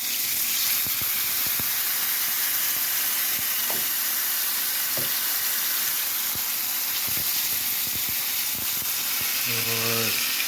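Two chicken pieces frying in oil over medium heat for homemade sandwiches, a steady loud sizzle and hiss throughout with a few faint clinks and knocks.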